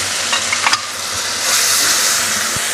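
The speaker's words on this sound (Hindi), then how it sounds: "हम अपना मसाला भूनते रहेंगे, चम्मच हिलाते रहेंगे ताकि मसाला नीचे लग ना जाए" Garam masala and spices fry in a pan while a spoon stirs them, a loud close sizzle with scraping clicks of the spoon and a swell of hiss midway.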